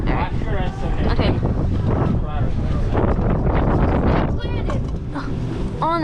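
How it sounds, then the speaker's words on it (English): Strong wind gusts buffeting the microphone on a windy whitewater river course during a winter race, a loud constant rumble beneath close, overlapping talk. "It's too windy."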